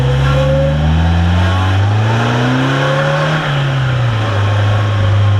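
A brand-new three-wheeled motorcycle engine revs loudly and steadily, its pitch climbing then settling across several seconds, close by with no talk over it.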